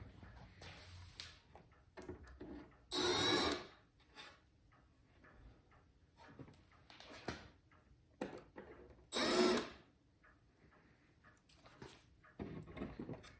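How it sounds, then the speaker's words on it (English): Countersink drill bit boring into the wooden back panel of a Seth Thomas Office Calendar No. 2 clock case, heard as two short, close power-drill bursts several seconds apart amid quiet handling clatter. "I'm going to use this countersink bit to take some of the pressure off of the back panel"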